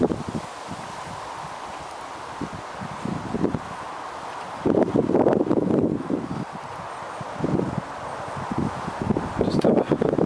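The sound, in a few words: wind blowing outdoors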